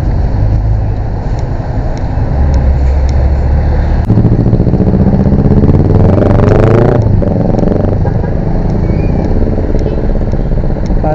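Road traffic of cars and motorcycles around the Christmas-lit lagoon in Bacolod City: loud, continuous engine rumble and clatter, with one vehicle swelling close midway and then receding.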